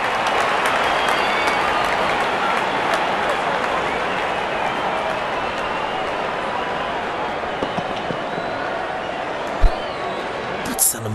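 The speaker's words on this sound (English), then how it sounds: "The crowd is enjoying every bit of this action" A large stadium crowd at a T20 World Cup cricket match between Bangladesh and Sri Lanka applauds and cheers in a steady, sustained roar, with a commentator talking over it.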